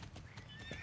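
A horse in the video game Star Stable Online neighs briefly, a short high whinny over faint hoof clip-clops, quiet and close.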